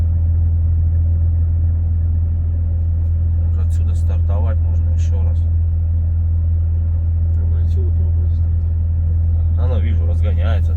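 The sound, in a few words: Volvo FH 540 truck accelerating through gears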